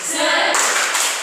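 A school class claps in quick unison for a short rhythmic spirit clap, close and loud, with voices chanting along.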